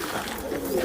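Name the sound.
golden pigeon cooing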